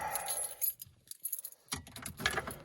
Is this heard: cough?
no